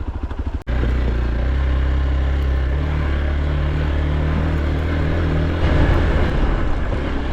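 An off-road motorcycle engine on the Karabel pass catches with a sharp burst, then revs hard and sustained up close, its throaty roar swelling again near the end.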